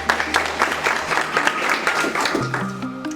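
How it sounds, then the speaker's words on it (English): A short burst of steady applause from an audience at a stock exchange opening bell ceremony, many hands clapping together at close range. "Please give her a round of applause."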